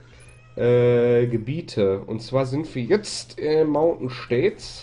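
A cat meows loudly and close by in a room, with a long drawn-out cry followed by several shorter meows, mixed with someone talking over it.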